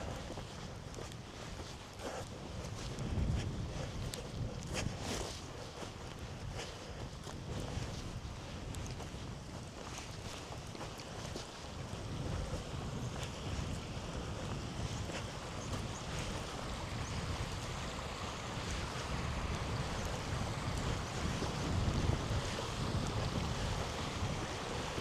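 A river flows beside a fence being torn down, a continuous rushing wash with gusty wind buffeting the microphone, steady and fairly loud for the whole stretch with no speech.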